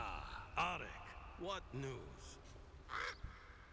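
Crow caws ring out several times in a fantasy dwarven-mine game setting, short harsh calls spaced apart, with a voice talking alongside.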